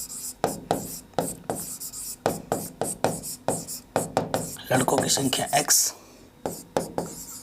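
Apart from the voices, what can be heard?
writing on a board while solving a maths problem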